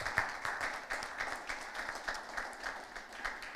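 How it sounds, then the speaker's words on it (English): A school debate audience claps for a speaker, a steady round of applause from a hall crowd with brisk, dense clapping that holds throughout at moderate volume. "A round of applause for Ms. Henry."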